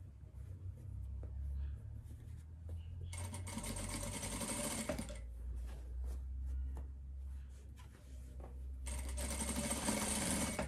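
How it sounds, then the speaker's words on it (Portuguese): A sewing machine runs a seam along the edge of a hooded fleece blanket in two steady buzzing bursts, separated by a quiet pause with small handling noises, close and fairly quiet. "E aí, eu vou vir passando essa costura na beiradinha por toda a volta da minha manta."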